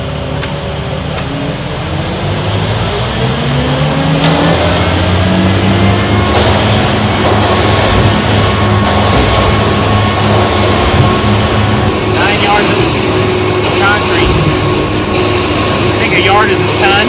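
A concrete mixer truck drum spins loaded with nine tons of concrete, a loud continuous diesel drone and churning rumble with shifting engine tones, while people talk nearby.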